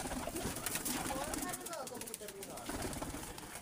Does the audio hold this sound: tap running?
no